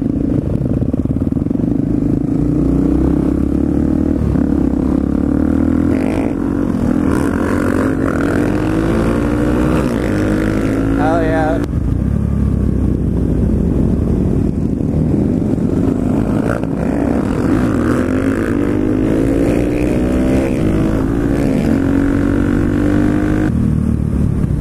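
Supermoto motorcycles riding out together, engines droning loudly and continuously with rising and falling revs, heard close up as if from a rider amid strong wind rush.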